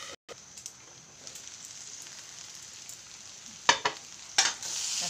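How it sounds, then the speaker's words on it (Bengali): Maggi noodles with raw onion and crushed black pepper are stirred in a hot pan, giving a soft continuous sizzle with a few sharp scraping strokes near the end. "এখন মিক্স করে ছোটো আঁচ করে রেখে দেবো"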